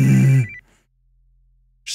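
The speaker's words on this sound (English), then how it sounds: "Ooh, phone call." A phone rings in the video game Lakefront Restaurant: one loud, bright electronic ring cuts off, followed by a short silence and the start of the next ring.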